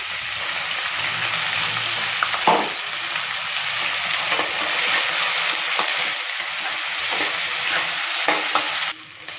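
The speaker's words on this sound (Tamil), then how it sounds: "கருவேப்பிலையும் போட்டுக்கோங்க வெங்காயம் பச்சை மிளகாய்" Curry leaves, onion and green chilies frying in hot oil with cumin and garlic for a butter bean kuzhambu, a close, steady sizzle broken by several sharp stirring scrapes and a brief louder crackle.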